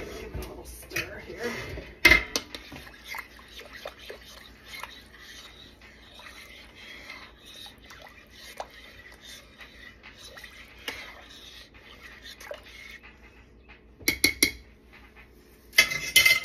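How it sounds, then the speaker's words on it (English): A spoon stirs beef stroganoff with Worcestershire sauce in a slow cooker set on high, making scattered clinks and scrapes against the pot, with louder clattering bursts near the start and end. "Give it a little stir here."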